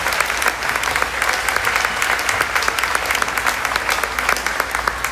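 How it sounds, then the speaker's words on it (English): Loud, dense applause fills a hall as a spring concert audience claps for the band, the sound steady and crowd-wide throughout. "I'd like to give them another round of applause for adapting"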